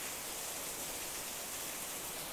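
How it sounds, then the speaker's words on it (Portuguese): Heavy rain falls outdoors near the sea and trees, a dense, continuous hiss that stays steady and loud with no other sounds standing out. "Olha que chuva linda, ó."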